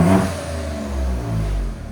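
Ford Ranger Raptor 3.0L twin-turbo V6 with an aftermarket exhaust in quiet mode, revving in a steady, muffled low rumble that swells and eases over two seconds, close by with no voices.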